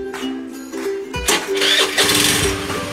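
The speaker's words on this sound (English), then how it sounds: "and the vehicle is started." Honda Activa scooter engine cranking and catching on a fresh spark plug, a starter whirr followed by the small engine firing and settling into a steady, close, fairly loud running note.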